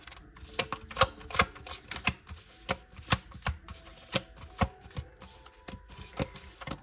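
Tarot cards being shuffled by hand, a repeated series of crisp riffling snaps and flutters in an irregular rhythm, close and fairly quiet, with no talk.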